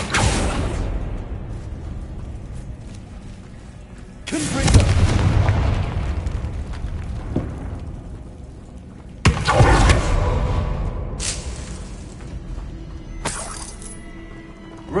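Bombardo spell explosions in Hogwarts Legacy: two loud, shattering booms about five seconds apart, each fading into a long rumbling tail, with a sharper crack close to the end.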